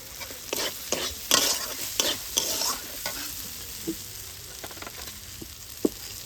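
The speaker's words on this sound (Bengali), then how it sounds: "আদাটা দিয়ে খুব ভালোভাবে কষিয়ে নিয়েছি। এবার ভেজে রাখা সবজিগুলো দিয়ে দেবো।" Vegetables fried with ginger are stirred in a hot pan, with a run of scraping spatula strokes and clanks over a soft sizzle, close and clear with no talk.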